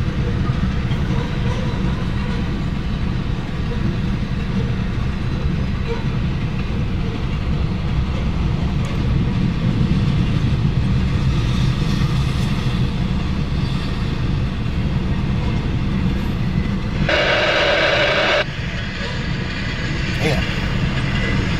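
Norfolk Southern NS 812 coal train thundering past at speed, a loud continuous broadband rumble of wheels and wagons held close for the whole stretch, with a brief sharper burst near the end and faint voices underneath.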